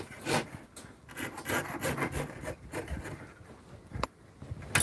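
Rhythmic rasping strokes of a hand tool scraping back and forth through hard material, close up, with a few sharp knocks between strokes.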